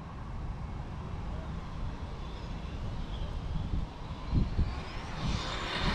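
Arrma Limitless RC car on a 6S speed run, its electric motor whining steadily as it accelerates at full throttle, fairly faint and distant at first and growing in the final seconds.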